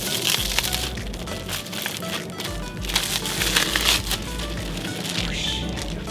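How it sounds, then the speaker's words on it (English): Packaging crinkles and crackles as a HIC rear visor for a Subaru WRX/STI is unwrapped, with continuous close rustling and occasional sharp crunches. "now I'm just going to go ahead and unwrap it all"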